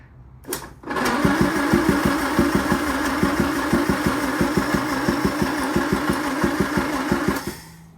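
A small engine cranks briefly, then catches and runs with a rapid, even chugging beat, loud and close, for about seven seconds before cutting out.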